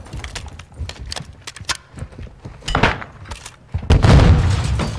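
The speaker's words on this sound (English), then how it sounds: "Beautiful stun grenade right there." A stun grenade goes off in Modern Warfare II during a competitive match, a sharp boom near the end rising out of scattered clicks and footsteps.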